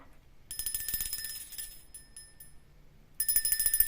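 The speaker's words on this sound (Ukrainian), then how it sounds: "Так, це дзвоник." A small bell rings in two bursts of bright, tinkling strokes, the first lasting a few seconds, a brief pause, then a second quick flurry.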